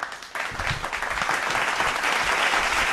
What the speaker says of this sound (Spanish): Y yo recibo con un gran aplauso a Maxi Lecky.